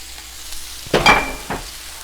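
Beef, onions and green peppers being stirred in a skillet for Philly cheesesteak sloppy joes: a quiet background sizzle, then a loud scraping stir around one second in and a shorter second stir just after, close up with no talk.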